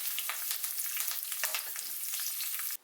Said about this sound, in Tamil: எண்ணெய் சூடானதும் அதில் ஒரு 4-5 பச்சை மிளகாய் சேர்த்துக்கோங்க.